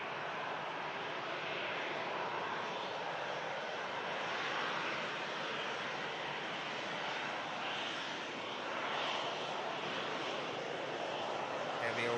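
Heavy Boeing 737 Max airliner taking off at Manchester Airport in stormy weather, a steady broad distant engine roar holding throughout, with wind, and a voice speaking over it.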